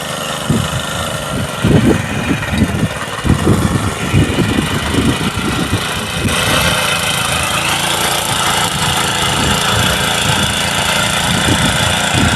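A village soil and fertilizer machine runs on its engine with a loud, steady drone and uneven bursts of low knocking and rattling, close up and without talk.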